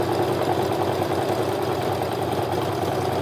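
A sewing machine stitches a seam on a tote bag with a cork panel, giving a steady, even mechanical whir that runs unbroken and fairly loud with no talking over it.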